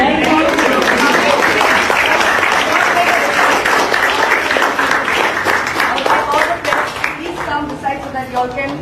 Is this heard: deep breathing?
no